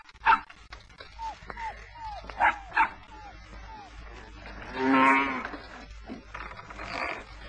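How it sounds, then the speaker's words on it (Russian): A cow moos at a rural homestead, one long lowing call near the middle, amid intermittent dog barks and yips and scattered background sounds. "Корова чего мычит?"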